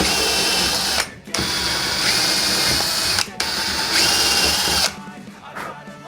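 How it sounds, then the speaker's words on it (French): A power drill with a 6 mm bit whines loudly and steadily drilling holes to mount a smoke detector, stopping briefly twice and then trailing off, close up with no talking. "On va prendre une perceuse avec un foret de diamètre 6."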